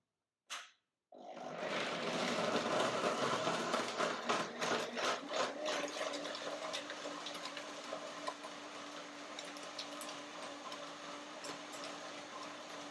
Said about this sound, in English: Blender dance.